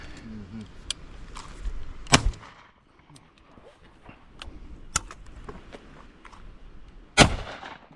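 Shotgun blasts during pigeon shooting over decoys in open fields, several sharp reports at intervals, two of them loud and close, with hunters talking quietly between shots.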